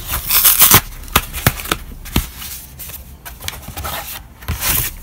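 A cardboard envelope holding 2021 Ukrainian commemorative coin packaging is opened up close: a string of sharp rustling, scraping and tearing bursts of crumpling card, louder at the start and then continuing in irregular pulses, with no talking.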